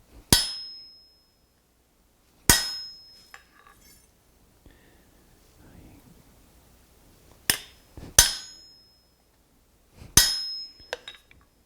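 Hammer blows strike a chisel hot-cutting through heated metal on an anvil, five or six sharp ringing clangs spaced a few seconds apart with quiet gaps between.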